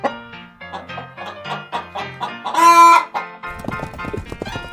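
A farm chicken clucks in a steady series of short calls. It breaks into a louder, drawn-out squawk partway through, then a quick run of rapid clucks, close and alone.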